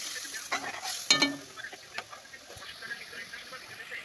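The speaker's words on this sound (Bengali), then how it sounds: "এটার মধ্যে আমি একটুখানি জিরা জিরা দেবো আর একটু লঙ্কা গুঁড়ো দিলাম এই যে ভালো একটু কষিয়ে নিই" Cumin and chili powder sautéing in a pan for a rohu fish curry: a faint, soft sizzle with scattered spatula taps and one sharper clink.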